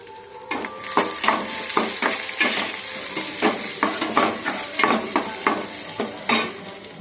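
Mustard seeds, cumin and onions sizzle in a hot pan while a spoon stirs and scrapes in repeated strokes, the frying hiss loud and close throughout.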